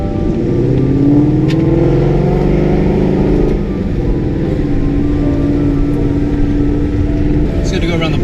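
A car with ARP studs and a VMP tune on a slow test drive around the block after brake work: a close, steady engine drone with a slight change in pitch, and a voice talking over it.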